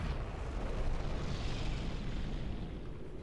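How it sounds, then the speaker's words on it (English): Artillery strike explosion in a real-time strategy video game: a deep, rumbling, sustained blast that rolls on as a dense, noisy boom, moderately loud, with no speech. "Artillery strike on something."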